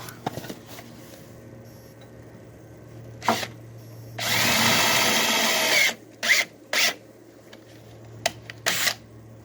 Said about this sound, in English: I'm going to drill out these old rivets.